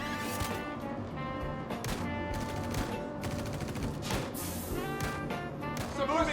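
Gunfire in the Star Citizen video game: rapid automatic bursts and overlapping shots crackle continuously in a dense firefight, with explosive bangs mixed in.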